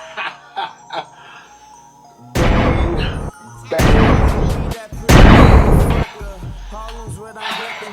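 Several loud, sharp gunshot sound effects in separate clusters, with quieter clicks and muffled sounds between them.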